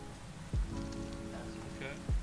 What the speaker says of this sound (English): See the rain?